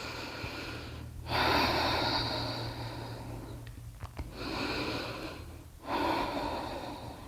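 Slow, deep breaths during a beginner hatha yoga session, three long broadband inhales or exhales separated by pauses, close and fairly soft over a steady low hum, with no talking.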